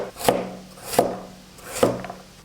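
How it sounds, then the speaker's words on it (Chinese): A knife dices a small piece of carrot on a cutting board: three crisp woody chops, evenly spaced, close and clear with no talk. "我们准备1小块胡萝卜，先切厚片，再切成小丁"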